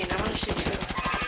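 Rapid automatic gunfire in Call of Duty, a short, continuous, loud burst of evenly spaced shots.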